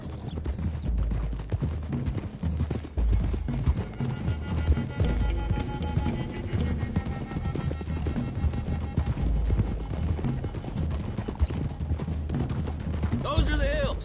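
Horses gallop in Red Dead Redemption 2, with rapid, loud clip-clop hoofbeats driving continuously under talking voices and game music, plus an occasional whinny.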